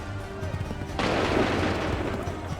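A massed musket volley bursts out in the game Assassin's Creed III, a sudden broad crack of many shots at once that decays into a rolling, smoky roar over about two seconds, loud and close, with no speech over it.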